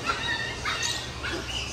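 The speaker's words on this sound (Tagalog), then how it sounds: "ang daming aso dito oh" Dogs at the Cartimar pet center give short yips and whimpering calls, moderately near, over steady background noise from the shop and a faint murmur of voices.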